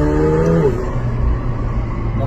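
A McLaren 720S twin-turbo V8 drones from inside the car with a window open, a falling tone shifting down as the engine note settles into a steady rumble.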